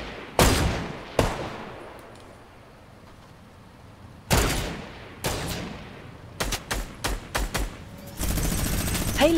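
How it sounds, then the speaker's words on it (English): Gunshots from players in Fortnite crack out as sharp separate reports, a few spaced single shots and then a quick run of closely spaced shots, with no talk. "there are so many like players firing at me"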